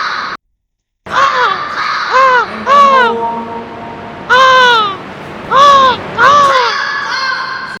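People in a yoga session imitate crow caws with their voices, a series of loud, harsh cawing calls in short bursts separated by brief pauses.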